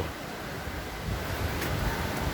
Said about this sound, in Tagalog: narinig yung ingay na yung tubig